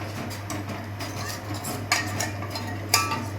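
A spoon clinks against a pot while stirring a boiling mixture so no lumps form, soft scraping and two sharper metallic taps over a steady low hum, close by.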